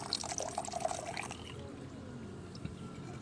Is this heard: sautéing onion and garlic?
no